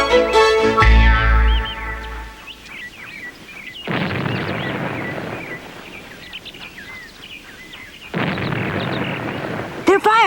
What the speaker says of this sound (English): They're firing the ferry boat cannon.